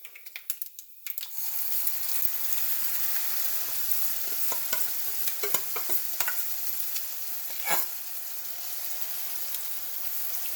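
Handvo batter poured into a hot pan, hissing into a strong, steady sizzle after a brief quiet start, with scattered clicks and scraping taps from stirring and spreading; close and continuous with no talking.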